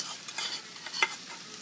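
Quinoa being stirred into tofu frying in a pan makes soft scraping stirs and a light sizzle, with a few brief clinks of a utensil against the pan, close by and without talk.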